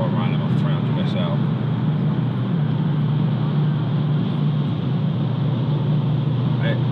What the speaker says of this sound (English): I'm just going to drive around at my 300 SL.